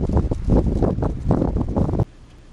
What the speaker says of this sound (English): Damn, that wind is blowing out there.